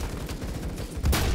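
A pistol fires in a Call of Duty-style shooter game: one sharp, loud shot cracks out near the end, after a run of softer rhythmic thuds.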